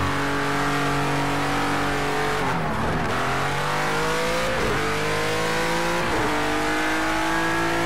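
A Renault race car in Project Cars 2 revs hard through its gears, the engine climbing in pitch and dropping sharply at shifts about every two seconds, loud and continuous with no talk over it.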